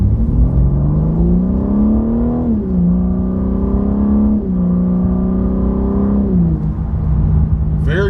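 A BMW G80 M3 with a dual-clutch transmission in Sport Plus accelerates hard from about 15 mph, the engine note climbing in three rising sweeps, each cut by a quick upshift, heard from inside the cabin.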